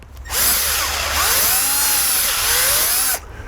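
An 11/32-inch power drill whines steadily for about three seconds, its pitch rising and dipping as it bores a tap hole into a maple tree, then cuts off.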